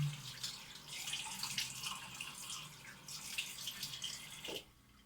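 Water splashes and runs from a tap, faint and close, with soft splashing as hands rinse cold water over a face, then stops near the end.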